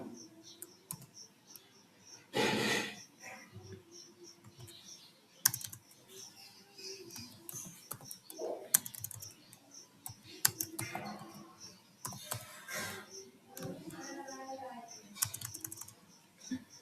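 Typing code on a computer keyboard produces steady, close clicking keystrokes with occasional louder taps, running continuously under intermittent quiet speech.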